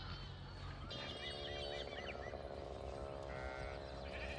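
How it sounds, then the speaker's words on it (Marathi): Goats from Balumama's herd bleat a few times at a morning palkhi gathering near Malegaon, wavering calls heard at moderate distance over a steady background murmur. "हे बघा बकरी"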